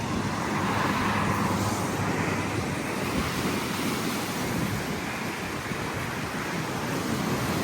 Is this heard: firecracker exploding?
no